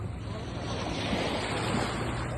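Sea waves wash and rumble in a steady broad roar, blended with wind buffeting the microphone at a beach outing.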